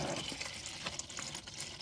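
Green engine coolant drains steadily into a container during a thermostat housing repair, a continuous close splashing, filling gurgle with no talk.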